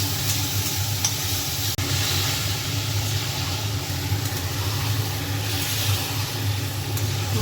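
Onion, green chili, ginger paste, a dried red chili and five-spice seeds fry in hot oil with a loud, unbroken hiss and crackle close up, steady throughout with a faint low hum beneath.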